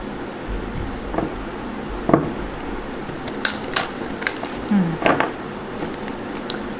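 A tarot card deck being shuffled by hand during a reading, giving close, crisp papery flicks and snaps in irregular bursts over a quiet room hush, with no talking.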